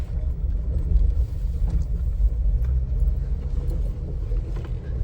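A big truck drives along with a steady, loud low rumble and road noise throughout, close and continuous with no talk.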